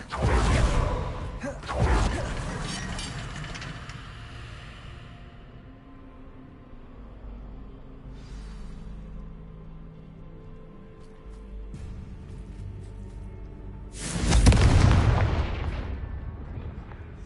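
Confringo fire spell from the Hogwarts Legacy video game, with an opening pair of blasts, a quieter stretch of low rumbling ambience, then another loud fiery explosion near the end.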